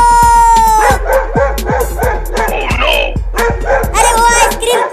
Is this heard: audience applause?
no